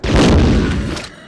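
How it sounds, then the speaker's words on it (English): A grenade round explodes in Resident Evil 2 (1998), a loud, close burst with a sharp onset that spreads into a booming rumble and fades over about a second, with no talking. "I'll get to show you guys the grenade rounds. See how it spreads explosions?"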